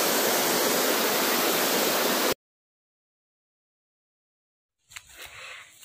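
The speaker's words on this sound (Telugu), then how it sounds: "ఈ 1 వీక్ నుంచి వర్షాలు ఎక్కువ ఉండడంతో వాటర్ ఫ్లో కూడా ఎక్కువగా ఉంది." Water pouring out of a large pond swollen by a week of heavy rain, a loud steady broadband rush for about two seconds that cuts off abruptly, followed by silence and then faint mixed ambient noise.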